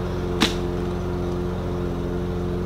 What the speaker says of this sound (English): it's because they're mowing the lawn outside